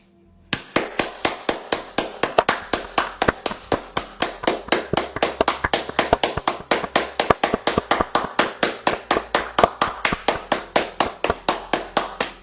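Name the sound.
hands clapping repeatedly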